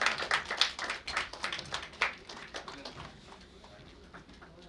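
An audience at a film event for the movie Yuddhakaanda claps for an actor: a burst of scattered, fairly close hand claps that is strongest at first, then thins and fades toward a quieter tail.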